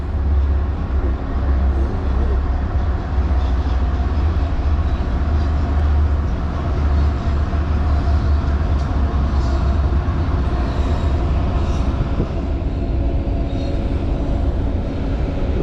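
Steady heavy rumble of a train rolling past, a continuous low roar with rattling texture that holds for the whole stretch without letting up.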